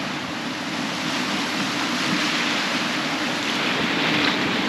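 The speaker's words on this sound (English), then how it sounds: "I think the tide is coming in. We don't have much time. Look at the waves." Ocean waves washing in on a rising tide at a remote island shore, a steady broadband roar of surf with wind noise, continuous and fairly loud throughout, no voices.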